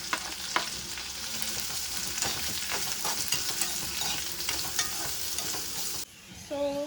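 Garlic, curry leaves, onion and green chili frying in hot oil, a dense continuous crackling sizzle with scattered spatula clinks, which drops away abruptly near the end.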